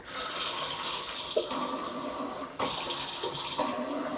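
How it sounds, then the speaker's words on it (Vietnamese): Water runs steadily from a multi-mode kitchen faucet in a black-toned duplex apartment, a continuous broadband hiss with brief shifts in flow around two points, close and fairly loud with no talking. "mình mua được cái vòi nước rất là xinh và rất là nhiều cái chế"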